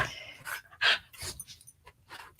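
A dog pants indoors in quick, breathy bursts, close and fairly soft, with short pauses between the puffs.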